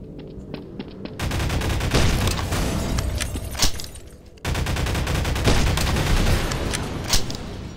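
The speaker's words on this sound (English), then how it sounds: "Why are you shooting me for?" Sustained rapid gunfire in Garry's Mod, dense loud automatic bursts rattling almost continuously with a brief pause midway, close and intense.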